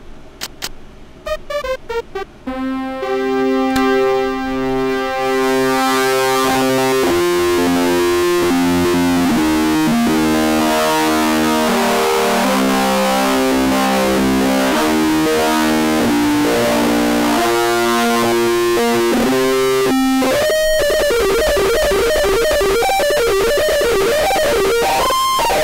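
Circuit-bent Casio SA-2 keyboard playing with its feedback-type distortion engaged, loud buzzy harmonic tones stepping through a melody, then squealing, glitchy warbles toward the end, with no talking.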